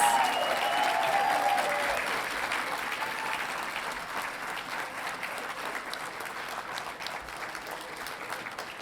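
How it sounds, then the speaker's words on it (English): Sustained applause at a Colorado State University graduation hooding ceremony, loud at first with a few cheers, then settling into a long steady roar of many hands from a large crowd. "let's give one big round of applause for all of our graduates,"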